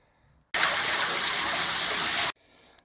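Water bursts from a well pump the moment its breaker is switched back on, a loud, steady rushing gush that starts abruptly, runs close and strong for about two seconds, then cuts off sharply, leaving quiet behind.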